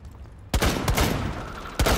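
Gunfire in a multiplayer shooter video game: a loud burst of rapid shots, a short gap, then another close burst, with no talk over it.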